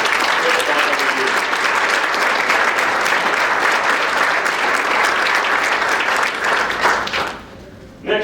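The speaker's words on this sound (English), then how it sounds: "ladies and gentlemen, please again a round of applause for John Dyson" A banquet crowd at a college athletics senior recognition and MVP honors dinner applauds John Dyson, loud, sustained clapping from many hands that carries on for several seconds before cutting off abruptly.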